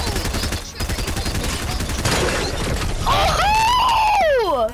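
Rapid gunfire in a multiplayer video game, a fast stream of shots that ends in a crash, followed by loud wailing tones near the end, close and dense.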